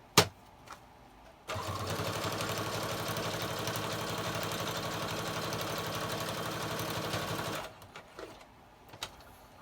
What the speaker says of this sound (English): I'm at the sewing machine.